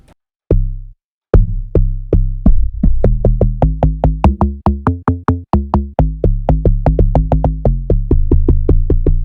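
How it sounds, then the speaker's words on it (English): A stock Amapiano log drum plays a bouncing, punchy bassline of many pitched hits, starting with a few spaced notes and then settling into a steady, busy rhythm with percussion, loud and clear without any voice. "the first log drum sound was a default Amapiano log drum sound that"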